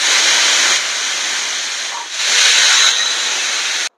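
Pressure cooker on a gas stove releasing its whistle, a loud, sharp hiss of escaping steam that surges, dips briefly around the middle, then rises again before cutting off.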